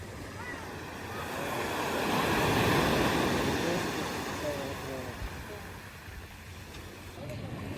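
Wind buffets the microphone on a beach as surf rolls in, swelling to a peak midway; faint voices sit underneath.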